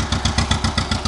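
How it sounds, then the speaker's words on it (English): A tractor engine runs steadily close by, its low pulsing beat repeating about nine times a second with a rough mechanical clatter over it. "This must be his first time actually driving a tractor."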